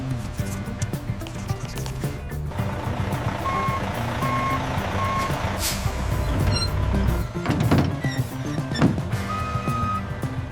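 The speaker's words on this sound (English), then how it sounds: "The truck is guided into the unloading zone." A truck reverses into a palm fruit factory's unloading zone, its reversing alarm beeping in a regular rhythm over a rumbling idling engine, with clanks and knocks toward the end.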